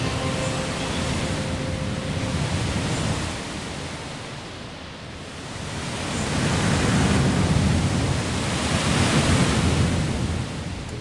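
A roaring waterfall at Roaring Falls in the Thomas & Friends: Go Go Thomas racing game, a steady, broad rushing roar that swells and ebbs, loud and continuous with no voices.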